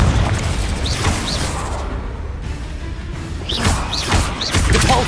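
Deep booming explosions with whooshing bursts from the Confringo fire spell in Hogwarts Legacy, several blasts in quick succession over rumbling game ambience.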